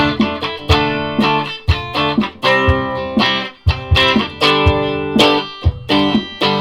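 An electric guitar played straight into an Orange TH30 amp with a reverb pedal in front rings out in loud, close chords and notes with rhythmic attacks, each note leaving a reverb-washed sustain, with no voices.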